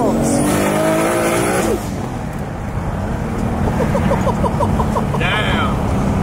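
Lamborghini SVJ engine rising loudly through the gears with harmonic sweeps, then a quieter stretch and a short high whine near the end, with excited voices talking over it.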